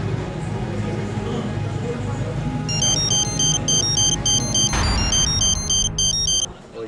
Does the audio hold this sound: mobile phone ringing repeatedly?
yes